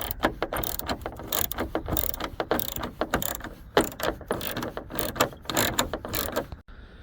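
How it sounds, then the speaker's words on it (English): A ratchet wrench clicks rapidly and steadily while backing out 10mm headlight screws on a Ford Expedition, a close, dense run of metallic ratcheting that stops abruptly at the end. "you'll have two 10mm screws on the top of the headlight, one here and one here, so remove those."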